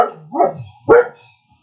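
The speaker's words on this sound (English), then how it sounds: "Sorry, the dogs are making an appearance." Two loud, sharp barks from a dog, close by and a beat apart, with no voices.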